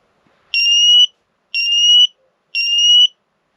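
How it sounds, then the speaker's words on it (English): A Fire Angel combination smoke and carbon monoxide alarm gives three loud, shrill test beeps, each about half a second long, evenly spaced about a second apart in a quiet room. "It's the Fire Angel. It's a combination smoke and carbon monoxide alarm"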